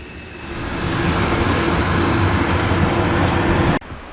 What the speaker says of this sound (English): the train just came out of there